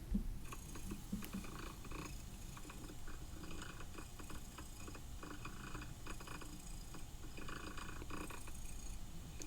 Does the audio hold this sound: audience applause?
no